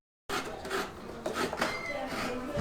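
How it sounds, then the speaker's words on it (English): A coconut is scratched on a grater in Sri Lanka, producing close, continuous rough rasping strokes that rise and fall in uneven rhythm for a couple of seconds after a brief silence. "Now Daniela is scratching the coconut."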